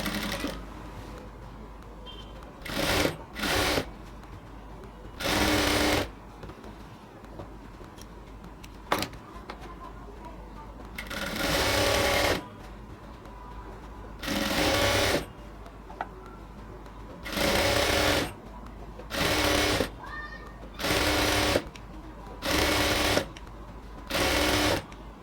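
Sewing machine stitching a seam on ladies' pants, running in repeated bursts of a few seconds each with brief pauses between them, loud and close against a quiet room.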